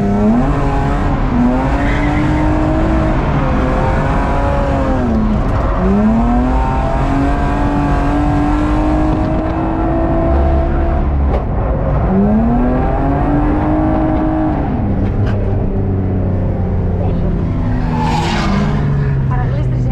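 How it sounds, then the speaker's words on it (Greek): A BMW E36 with an M50B20 engine on cold tires skids, its loud tire squeal wailing in long rising and falling sweeps several times over a constant close engine roar. "Παραγλίστρισε."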